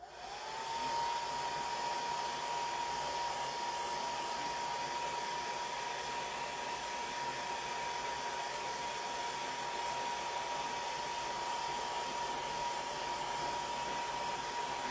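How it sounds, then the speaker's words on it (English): Handheld blow dryer drying chalk paste on a wood plank: a steady loud whooshing whir runs continuously throughout with a constant whine, close up and with no talking. "blow dryer."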